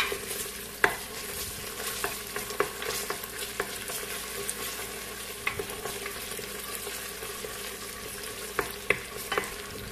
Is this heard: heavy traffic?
no